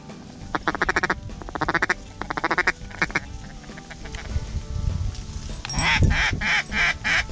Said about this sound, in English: More ducks out in front.